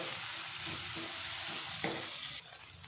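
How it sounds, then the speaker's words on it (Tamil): Chicken pepper fry with mint and coriander leaves sizzling in a pan, a steady hiss with soft stirring scrapes and one sharper clatter, quieting near the end, no voices. "இதிலே கொஞ்சமாக புதினா இலை போட்டுடலாம் கொஞ்சம் கொத்தமல்லி இலை போட்டுடலாம் இதெல்லாம் சேர்த்து நல்லா வடக்கி விடலாம்"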